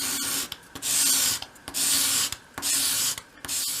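A small wooden piece for a 1/12 scale stepped storage unit being sanded to a bevel with sandpaper, heard as loud, close rasping strokes in a regular back-and-forth rhythm with brief pauses between passes.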